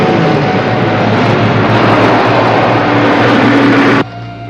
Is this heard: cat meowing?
no